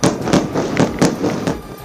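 Loud explosions from Israeli strikes on Hezbollah positions in Lebanon boom in a rapid run of about six sharp blasts, each punchy and close, with no pause between them.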